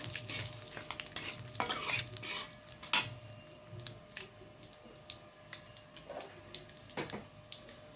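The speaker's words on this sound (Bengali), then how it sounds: "দুটো শুকনো লঙ্কা আর তেজপাতা দিয়ে দিলাম সাথে দিয়ে দিচ্ছি গরম মশলা ভেজে নিতে হবে" Dried chilies, bay leaves and garam masala fry quietly in oil while a spatula stirs and scrapes the pan, with soft sizzling and intermittent clinks of metal, fairly faint and without speech.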